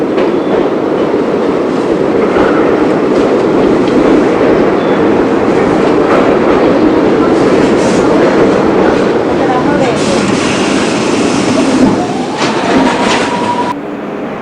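A New York subway train runs steadily on a newer extension of the line, with a loud continuous rumble, clattering wheels and a brief squeal near the end. A voice talks over it.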